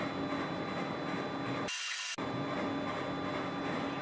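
A Gravotech LS100 desktop laser engraver works on aluminium, giving a steady close mechanical hum with faint ratcheting detail. A brief, sharp broadband burst interrupts the drone midway before it resumes.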